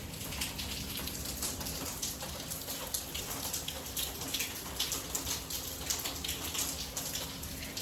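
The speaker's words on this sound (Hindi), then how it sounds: "आज हो रही है हमारे यहाँ बहुत अच्छी, बहुत प्यारी बारिश" Heavy rain pours outside a house, a loud constant wash of drops pattering on surfaces close by, with no one speaking over it.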